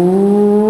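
A voice mimics a motorcycle engine with a loud, steady buzzing drone held close to the microphone for under a second.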